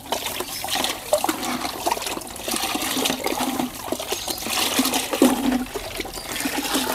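Bacterial liquid sloshes and churns inside a container as it is shaken, a continuous close watery swishing with a few louder splashes and no talking.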